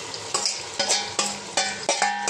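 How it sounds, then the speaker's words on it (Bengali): Meat for biryani sautéed in a pot with a spoon: five or six rhythmic, close stirring strokes, each a sharp scrape or clink followed by a bright sizzle, repeating about every half second over continuous frying. "এবার মাংসটা আমরা এখানে কষছি, মাংসটা কষা হচ্ছে"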